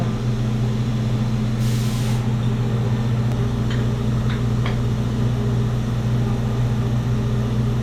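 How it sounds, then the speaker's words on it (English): Steady mechanical hum with a constant low drone, a brief hiss burst and a few faint ticks: a CNC machine drilling a metal light bezel part in a drill fixture. "this one's just getting drilled, not tapped"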